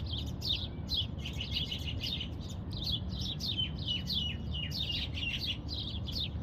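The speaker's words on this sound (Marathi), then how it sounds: "आणि इथे ज्यात आवाजही येत आहे ना तुम्हाला पक्ष्यांचा" Many birds chirp steadily in Manila tamarind trees laden with fruit, quick repeated high calls that carry on without pause over a low rumbling outdoor background.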